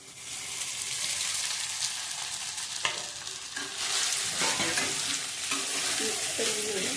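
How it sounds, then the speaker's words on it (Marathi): Sabudana khichdi with softened potato is stirred and fried in a pan, a steady broadband sizzle with scraping spoon strokes throughout, close and fairly loud, no talk. "मिक्स करून घेऊया।"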